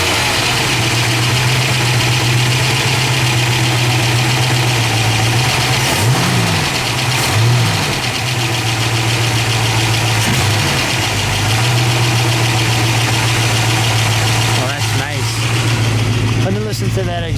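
A 1968 Ford Shelby Mustang GT350 with a 302 V8 idles steadily with a deep, continuous rumble and slight fluctuations, close by, with a few faint voices underneath.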